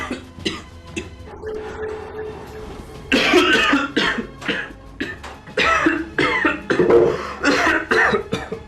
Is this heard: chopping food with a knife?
no